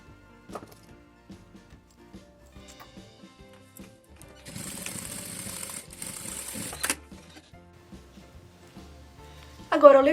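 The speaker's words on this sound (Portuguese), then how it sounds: "E passo uma costura reta aqui," A sewing machine runs a straight seam on a fabric expandable-bottom pouch in a short burst of steady whirring near the middle, with quieter handling and low talk around it.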